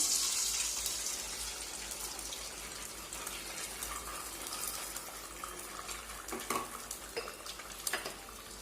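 Four raw eggs are poured into a bowl and stirred: faint splashing and spoon clinks against the bowl, soft and close, with a few sharper taps near the end.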